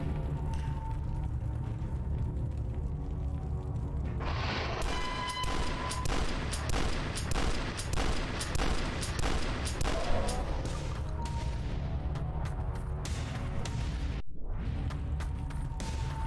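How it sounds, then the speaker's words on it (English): Mortar fire and explosions in the retro shooter DUSK, a dense barrage of loud booming blasts and gunfire running almost continuously over a droning music track, with a brief drop to near silence before the firing resumes. "The mortar."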